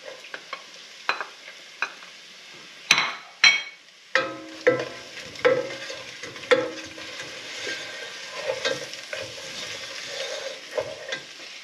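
Garlic frying in a pan for pinakbet, with sharp scraping stirs and clatter early on giving way to a steady, moderately loud sizzle with intermittent utensil knocks.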